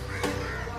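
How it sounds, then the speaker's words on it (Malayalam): Two raucous caws ring out from crows perched in a tree, spaced about half a second apart. They sound near and loud, with no speech. "എന്താണെന്നറിയില്ല, കാക്കകൾ നല്ല ഒച്ചയും ബഹളം ഉണ്ടാക്കുന്നുണ്ട്."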